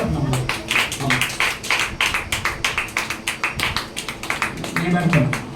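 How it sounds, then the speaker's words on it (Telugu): A church congregation at a Mother's Day service keeps up rhythmic group clapping, a fast, even run of sharp claps with voices talking over it throughout. "చప్పట్లు కొడుతున్నాం"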